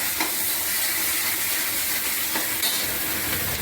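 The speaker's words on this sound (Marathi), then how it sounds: "हे बघा, हे वाटण परतून घ्यायचं चांगलं." Ground masala paste sautéing in a pan for a Sunday mutton curry, giving a steady, close sizzle and hiss throughout with a few faint scrapes of stirring; no talking.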